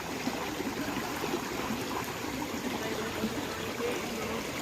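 Stream water flows steadily on a farm, a constant soft rushing and babbling trickle heard close with no breaks and no talk.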